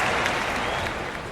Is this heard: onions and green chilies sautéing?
no